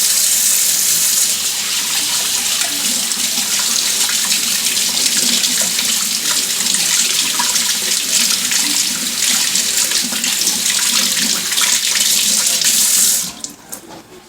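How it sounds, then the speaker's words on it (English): Tap water running steadily into a sink as hands are washed with dish detergent to remove grease, a loud continuous splashing rush that stops abruptly near the end. "Little dish detergent by using my hands to get the grease off."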